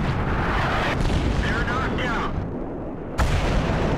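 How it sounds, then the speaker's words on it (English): A World of Tanks M40/M43 self-propelled gun shell striking a T-34, a heavy booming impact blending into a sustained roar, with a sudden drop to near-silence and then another loud crash. "just in case you're wondering what happens to a T-34 if he gets hit by a shell from the M40"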